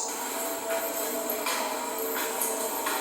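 Faint high-pitched screeching tones drift through a hollow, echoing abandoned building, with soft bursts of noise recurring every second or so.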